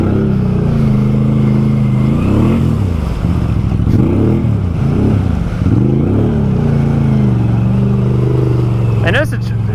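A 2020 Can-Am Outlander XMR ATV with a swapped-in 850 engine churns through mud, its engine revving up and down in repeated surges as the wheels dig, with voices underneath.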